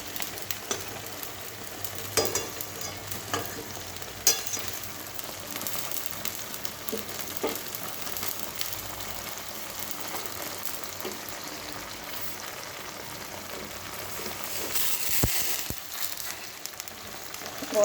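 Pointed gourd and spices fry in oil in a pan, a steady, soft sizzle with faint crackles and occasional utensil taps, no talking.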